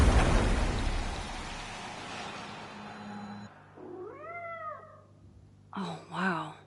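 Cats in Life is Strange meow in short rising-falling calls, several distinct meows following a burst of rain-like noise that fades into quiet, the cries close and clear.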